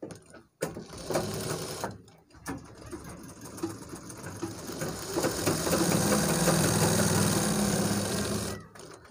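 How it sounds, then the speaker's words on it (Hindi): Sewing machine stitching a lining onto a trouser back pocket, its motor running in a steady, close whir that builds and holds, broken by brief pauses near the start. "यहाँ पर ऊपर से सिलाई लगा देंगे अपने निशान पे"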